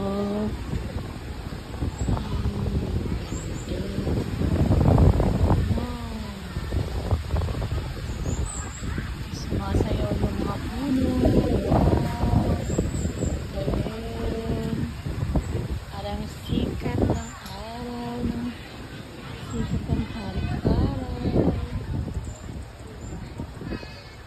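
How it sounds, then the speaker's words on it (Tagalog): Strong wind off the Mediterranean Sea buffets the microphone in steady, rumbling gusts, with a voice speaking intermittently over it. "ang lakas ng hangin dito sa Mediterranean Sea"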